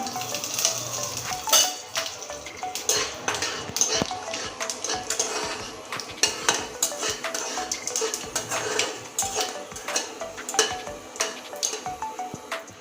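Cumin seeds tempering in hot oil in a pan give off a steady close sizzle dotted with dense, rapid crackles and pops throughout.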